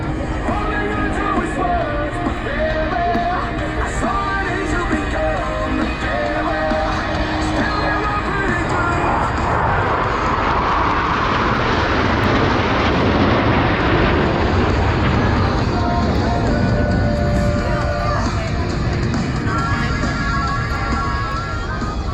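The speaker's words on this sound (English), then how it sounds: "Blue Angels 5 and 6 are approaching the flight line at 400 miles per hour." U.S. Navy Blue Angels jets, Blue Angels 5 and 6, approach the flight line at about 400 mph at the Dayton Airshow 2022, a loud continuous roar that swells toward the middle and fills the whole stretch.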